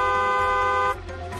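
A car horn gives one steady, loud, tonal honk of just under a second, then cuts off, leaving low traffic rumble behind.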